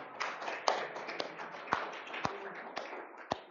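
A small meetup crowd at an AWS user group claps for a prize winner, sparse, faint scattered claps with a few sharper individual hits standing out in an uneven rhythm.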